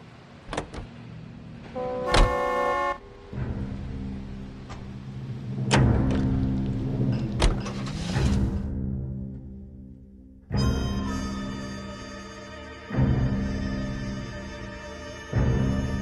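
A car driven in the video game L.A. Noire, heard as a steady engine drone with shifting tones, punctuated by several sharp clicks and thumps, with no one talking.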